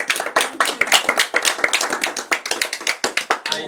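Audience applause at a church talk on lessons in truth, a fairly small gathering clapping in dense, uneven bursts of individual claps, close and steady for several seconds.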